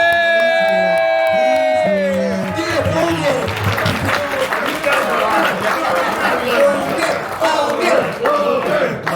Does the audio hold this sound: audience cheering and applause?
yes